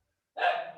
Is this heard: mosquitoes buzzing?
no